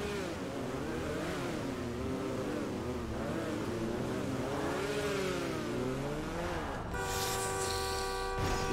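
Car engine revving and accelerating in a GTA V street race, a steady loud drone with rising and falling pitch sweeps, ending in a sharper, high whining burst near the close.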